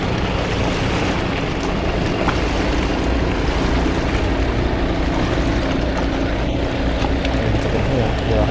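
A long-tail boat ride on a river, with a steady loud engine drone and rushing water and wind noise filling the whole stretch without pause.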